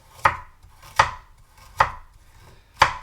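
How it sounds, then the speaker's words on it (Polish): A knife chops carrots on a board, four sharp, separate strokes at an uneven pace, close and clear against a quiet background. "Ciacham marchewkę, czyli kroję."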